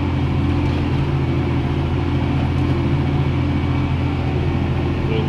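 A New Holland TM190 tractor in 12th gear, pulling a He-Va 5-leg subsoiler with a stuck valve, gives a constant droning engine hum that holds steady and unbroken at close range.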